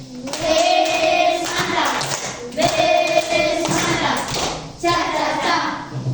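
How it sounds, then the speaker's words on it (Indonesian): Schoolchildren in a classroom give a group a patterned appreciation clap, with bursts of rhythmic clapping and thumps repeating three times alongside loud chanting voices. "Kita kasih tepuk apresiasi."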